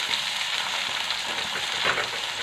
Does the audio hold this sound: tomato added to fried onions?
yes